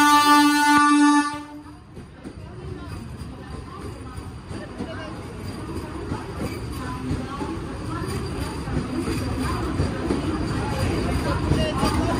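A Vande Bharat express train arrives at a station on the Mumbai to Jalna route: a short loud horn blast, then a steady rumble of rolling carriages mixed with platform voices.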